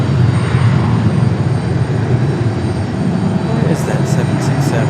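An Aer Lingus airliner taxis at Raleigh Durham airport, its engines a steady, loud broadband roar with low rumble throughout, joined near the end by a few faint high chirps.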